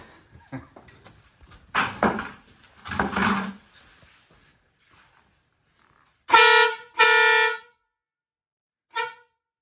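Loud blasts from a newly installed Wolo air horn, two long ones back to back and a short final toot, following clanking and rustling of handling noise.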